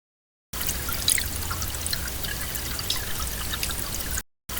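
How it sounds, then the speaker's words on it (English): Running water in a fishing video game, a steady pouring, trickling stream heard alone at moderate level for about four seconds, with no talk. "that was literally just the sound of water"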